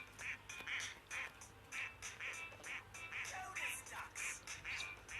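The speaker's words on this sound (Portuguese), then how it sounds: "Olha, patos!" Ducks quack in a steady series of short, repeated calls at moderate distance, one burst following another with little pause and faint background noise.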